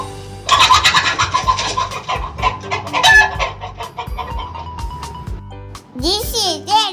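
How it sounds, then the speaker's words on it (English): A hen clucks repeatedly in a rapid, busy series, fairly close and loud, ending in a short burst of higher squawks, with a voice talking over parts of it. "This is a hen."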